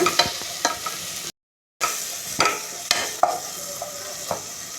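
A spoon stirs garam masala into a sizzling gravy in a pan, making close, repeated scraping strokes over a steady fry, with a brief silent break partway through.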